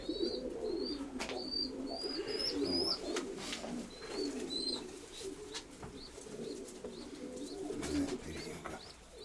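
Pigeons cooing steadily in a pigeon loft, a low continuous murmur of coos with occasional high chirps and flutters above it, fairly close and soft.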